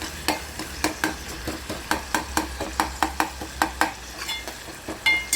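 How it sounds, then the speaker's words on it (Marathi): Tomatoes, garlic and onion roast in a pan with a soft sizzle, punctuated by a steady rhythm of sharp spatula strikes and scrapes against the metal, close and fairly quiet, with no speech. "टमॅटो लसूण कांदा हे भाजून घ्यायचं"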